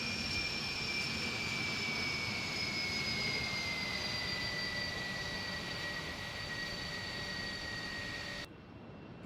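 Airbus Beluga jet engines in the flight simulator X-Plane 12 drone in a steady, loud roar with high whining tones, holding constant until the sound cuts off abruptly near the end.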